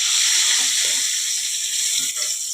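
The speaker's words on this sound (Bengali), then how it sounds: "গোটা জিরে দিয়ে দিলাম" Whole cumin seeds sizzling in hot oil in a pan, a continuous bright crackling hiss, close and fairly loud, slowly easing off slightly toward the end.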